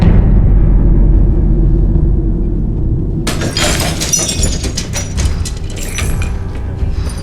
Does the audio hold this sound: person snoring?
no